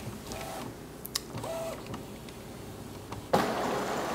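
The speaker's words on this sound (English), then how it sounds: "it now tells me it's loading paper, and we'll see what happens at the back of the printer" An Epson P900 printer loading A2 archival matte paper makes whirring motor runs and small mechanical clicks, ending in a louder feed rush near the end.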